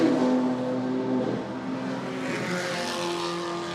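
Race cars circulate on a track during a club race, lapping slower back markers, engines droning and shifting pitch as they pass at moderate distance, a continuous roar with no talk.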